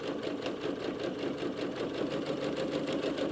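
A sewing machine stitches fabric for a foldable grocery bag, running in a fast, steady mechanical whir with rapid needle chatter, close up and uninterrupted.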